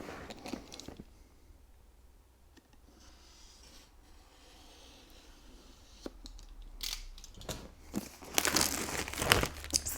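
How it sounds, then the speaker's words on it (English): Plastic film peeled off a new 2018 MacBook Pro, a soft crinkling and rubbing rasp that builds into louder crackles and tearing near the end, close up with no talk. "the best bit about opening a new Mac is taking the plastic off"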